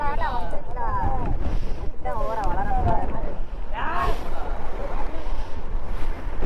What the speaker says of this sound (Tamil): காற்று ஹெவியாக அடிக்கும்.